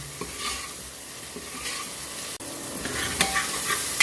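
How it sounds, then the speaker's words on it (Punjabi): Chopped onion and tomato fry in a pan for a bottle gourd curry. A continuous, fairly quiet sizzle runs under repeated scraping strokes of a stirring spoon, with no speech. "ਇਹਨੂੰ ਵੀ ਨਾਲ ਥੋੜਾ ਜਿਹਾ ਭੁੰਨ ਲਈ"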